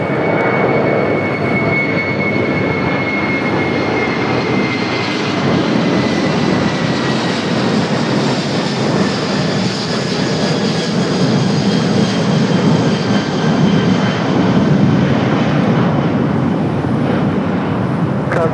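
A heavy Airbus jet departs LAX with a loud, continuous engine roar and whine, held steady throughout without talk.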